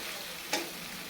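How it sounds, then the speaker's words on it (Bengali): Potatoes and spices fry in a pan, a soft steady sizzle with one brief stir or scrape in the middle, heard quietly and close with nobody talking. "এখন সুন্দর মশলাগুলো ভাজি হয়ে আলুর সাথে লাগিয়ে যাচ্ছে"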